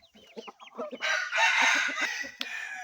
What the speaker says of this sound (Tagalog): napakagandang labuyo